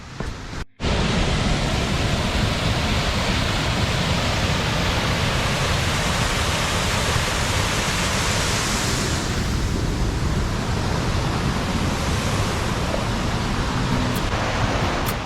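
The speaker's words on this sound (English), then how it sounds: "here's waterfall 1." Loud, steady roar of a waterfall beside a running trail, a broad unbroken wash of falling water that fills the whole clip after a brief dropout at the start.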